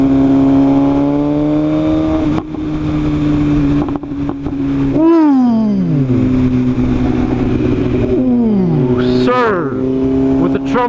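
A loud Maserati revs hard while racing an Audi RS3, its engine note climbing and falling through several sweeping rev surges, steady and close, with voices talking over the roar.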